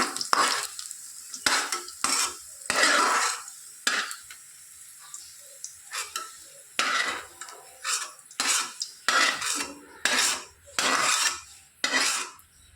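Ingredients for North Karnataka-style bitter gourd palya roast in a pan over a low flame, stirred in about a dozen quick, close scraping strokes with short pauses between them and no voices.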